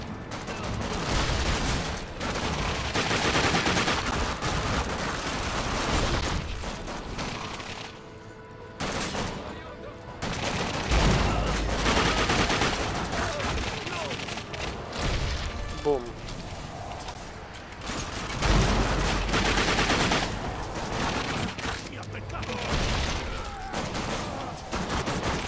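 Bursts of rapid gunfire from the co-op shooter The Darkness II, loud and sustained, with machine-gun volleys, brief lulls and shouting players talking over the shooting.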